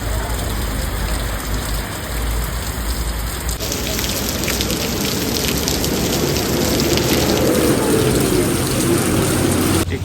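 Rain pours down steadily and loudly on surrounding surfaces, a dense unbroken hiss of drops lasting the whole stretch, with no voices over it.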